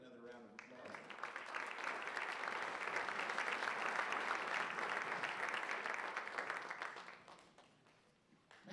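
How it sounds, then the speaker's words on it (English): Audience applause at a jazz concert, a sustained wash of clapping that swells in, holds steady and loud for several seconds, then fades near the end. "give them another round of applause"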